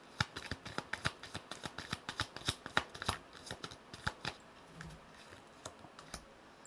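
Tarot cards are shuffled by hand in a rapid series of crisp riffling clicks and slaps, fairly close but soft, the rhythm thinning out toward the end with no voice over it.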